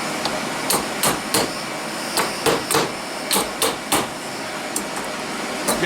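Sharp metallic hammer strikes ring out in irregular bursts, a dozen or so blows at close range on a GM 8.25 independent front suspension being rebuilt, over a steady background hum.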